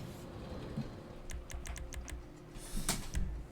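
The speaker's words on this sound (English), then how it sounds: "As we are in the office area, we hear office sounds." Quick bursts of keyboard typing in an office area in GTA 5 Online over a steady low ambient hum, with a few clacks and a louder knock near the end.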